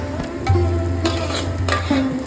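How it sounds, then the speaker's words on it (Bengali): Rice for basanti pulao being fried and stirred in a pan: a steady sizzle with scraping strokes of a spatula against the metal, close and moderately loud, with a few brief tonal clinks. "চালগুলো যত সুন্দরভাবে ভাজা হবে সেক্ষেত্রে পোলাওয়ের চালটা তত সুন্দর ঝরঝরা থাকবে"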